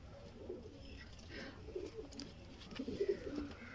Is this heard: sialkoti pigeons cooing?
yes